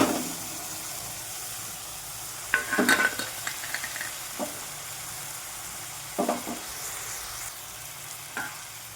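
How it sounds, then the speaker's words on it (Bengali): A spice paste of ginger, chili, turmeric, cumin and coriander with a little water sautéing in a pan on low heat: an even hiss of frying punctuated by scattered spoon scrapes and clatters, close with no voices. "সামান্য জল দিলাম, দিয়ে মশলাটা আস্তে আস্তে কষবো, জোর কমিয়ে কষবো মশলাটা"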